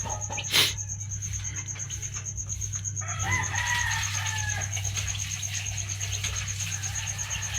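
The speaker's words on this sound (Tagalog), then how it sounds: "naparami na talaga tayo ng mga manok." Rhode Island Red chickens on a small farm, a rooster crowing once loudly and nearby over steady clucking, with a constant electric hum and a high-pitched tone in the background.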